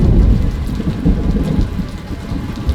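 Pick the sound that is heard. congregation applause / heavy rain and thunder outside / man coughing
heavy rain and thunder outside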